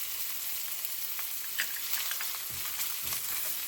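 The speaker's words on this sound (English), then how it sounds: "Now I'm going to add the whites of 2 scallions." Ginger paste, garlic and scallion whites sizzle steadily in a hot pan for a chicken and green bean stir fry, a soft, even crackle with a few stirring scrapes.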